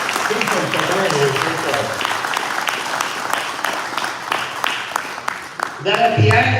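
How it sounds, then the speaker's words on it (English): Applause from the crowd at a muskie fishing tournament rules meeting, a steady wash of clapping lasting several seconds, with murmured voices beneath and a louder burst of clapping close by near the end. "Give them a round of applause, guys."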